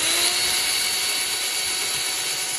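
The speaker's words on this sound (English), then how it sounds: "Now what I'm doing is I'm going over and I'm sanding the side pieces." A power sander sands wooden side pieces of a PC case, whining steadily and loudly at close range, a constant high-pitched buzz with no pauses.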